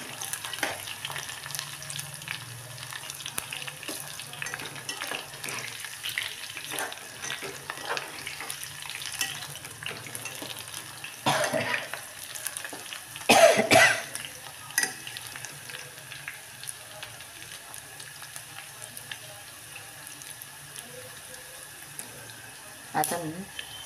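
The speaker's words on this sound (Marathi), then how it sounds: "तर बटाटे तळून घ्यायचे" Potatoes frying in oil for masale bhat, a steady low sizzle running throughout with occasional louder bursts of stirring and clatter, and a voice speaking briefly.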